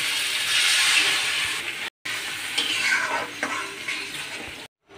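Water hits a pan of spices and chopped tomato frying for a home-style Bengali foli fish curry, setting off a loud, steady, hissing sizzle that runs on with brief gaps, no talking over it.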